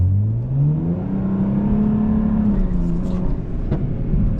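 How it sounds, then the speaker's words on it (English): A BMW 335is with the N54 turbocharged engine and manual gearbox revs hard as the clutch slips, a loud close rising engine drone that climbs, holds, then falls away, with a few sharp mechanical clicks near the end. "Slipped the clutch a little too much there."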